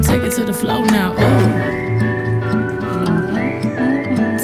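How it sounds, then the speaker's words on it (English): Melodic whistling in a country song, a sustained whistled line riding over the music's rhythmic backing, clear and upfront. "that's her whistling"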